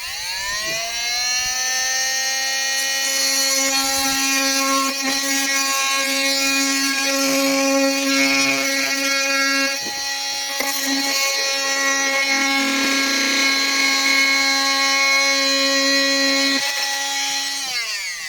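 Power tool trimming off an excess piece of wood in a workshop, a loud steady high-pitched whine that spins up, holds for the whole cut with a brief dip midway, then winds down, with no talking.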